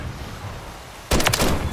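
Gunfire from the Jak Jawbreaker kit in Call of Duty MW3: after a second of low game ambience, a quick burst of several loud, sharp shots rings out up close and alone.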